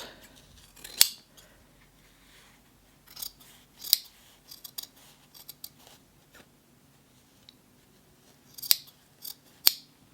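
Sharp scissor snips cut through fabric, a few spaced far apart, with light rustling and handling noises between the cuts.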